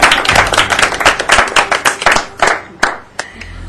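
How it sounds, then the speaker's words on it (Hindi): A family claps loudly for a girl wrestler, with fast, uneven hand claps close by that thin out toward the end into a few separate claps. "चलो एक बार सारा परिवार जोरदार तालियां बजा दे दिव्या के लिए।"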